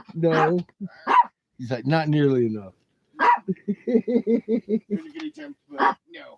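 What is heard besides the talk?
small dog barking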